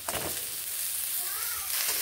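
Potatoes fry in a pan as ridge gourd pieces are added, giving a brief, continuous, fairly close sizzle and hiss.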